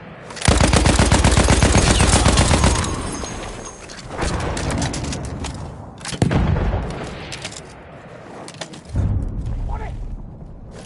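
Rapid machine gun fire in a video game, a loud sustained burst up front followed by further volleys and scattered shots, with shouting voices over the combat.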